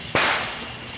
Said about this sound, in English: That's like the first fireworks show.